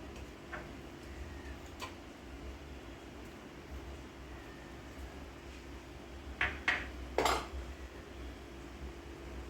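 A metal lid comes off a cooking pot in a home kitchen, giving a few quick clinks and one brighter clatter over a low steady hum, with scattered faint ticks just before.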